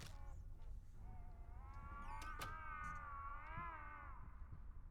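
A long, wavering cat meow in the horror video game Layers of Fear, drawn out over a couple of seconds with a rising and falling pitch, heard alone over a low rumbling ambient drone.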